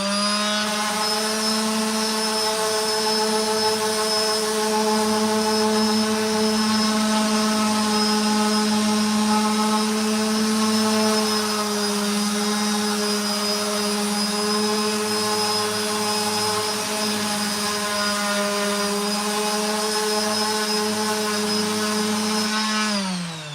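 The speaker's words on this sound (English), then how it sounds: "So that's why I'm using the orbital sander." An orbital sander strips old varnish from a red gum table, a steady, close, strongly tonal drone that holds almost unchanged for over twenty seconds before cutting off.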